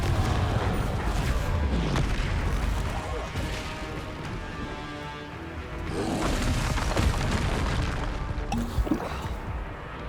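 The Confringo spell from the video game Hogwarts Legacy goes off in loud booming explosions and crashes, heavy and continuous, with a voice talking through parts of it.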